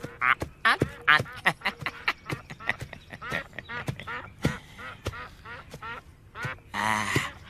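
Wild whistling ducks quack and call in a rapid series of short, loud squawks close by, with a longer raspy burst near the end.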